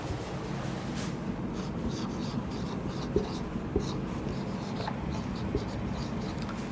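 Pen or chalk writing out a physics definition on a board or page, with faint scratchy strokes and a few light taps over steady low room noise.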